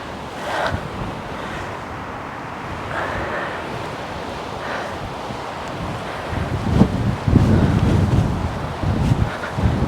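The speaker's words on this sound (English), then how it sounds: "Whoa, windy." Strong wind blowing outdoors near a field, buffeting the microphone with a rough, continuous rush that grows louder and gustier toward the end, with no talking.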